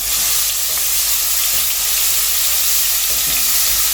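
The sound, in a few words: crushed ginger and garlic frying in sunflower oil and butter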